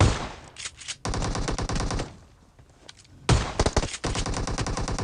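Shotgun fire in the mobile battle-royale game PUBG Mobile comes as rapid, loud blasts in dense bursts, with a brief quieter gap before a second volley.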